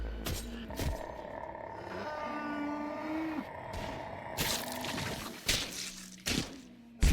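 A cow in The Butchery video game lets out a low, drawn moo, then shorter moos, close and clear, amid thuds, a sharp crash and game noises.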